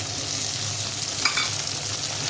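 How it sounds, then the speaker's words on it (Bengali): Chopped tomato goes into a pan of frying onions, giving a steady close sizzle with faint stirring scrapes, constant and even for the whole moment, no one speaking. "পেঁয়াজটা সুন্দর করে ভাজা হয়ে গেছে, এবার টমেটো কুচিটা দিয়ে দেবো।"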